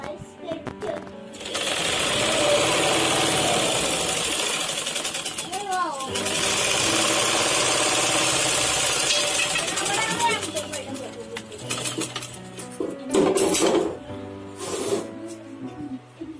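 An electric sewing machine stitches a blouse in long whirring runs, loud and close, with pauses in between. A person talks during the pauses.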